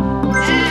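Sheep bleat in the video game Divide By Sheep, a single short, nasal, wavering cry heard up close and clear, with no talking over it.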